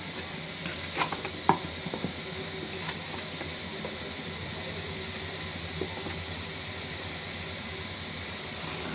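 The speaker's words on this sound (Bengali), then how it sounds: "দিয়ে দিচ্ছি জিরা এবং রসুন পেস্ট" Cumin and garlic paste fries quietly in a pan with a low, even sizzle. A few sharp spoon clicks sound near the start, then the hiss continues on its own.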